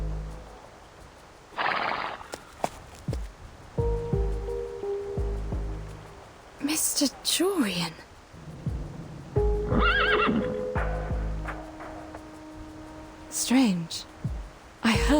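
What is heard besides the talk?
horses neighing and hooves clopping in the video game Reverse: 1999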